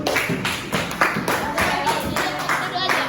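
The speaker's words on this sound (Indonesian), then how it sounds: "kasih tepuk tangan sama kawannya" Classmates in a school classroom give a student a short round of applause, scattered claps of moderate loudness mixed with voices and room chatter.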